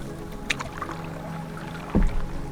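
Kayak or canoe paddling through a narrow, unfamiliar waterway on a solo camping trip; soft paddle strokes and water swishes, with one louder splash-like stroke near the end, close by and without talk.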